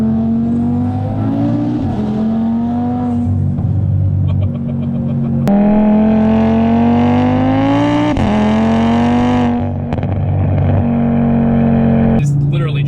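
A 600 hp Audi RS3 pulls hard, its engine roaring loudly as revs climb steadily, cut by quick gear shifts with a sharp crack, then rising again through the next gear.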